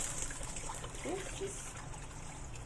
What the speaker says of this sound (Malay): Sis akan masukkan air kelapa